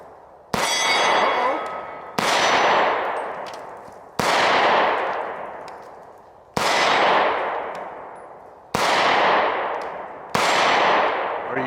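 Six loud shots from a Taurus TH10 10mm pistol ring out at even intervals of about two seconds, each a sharp crack followed by a long, fading metallic ring from the steel target.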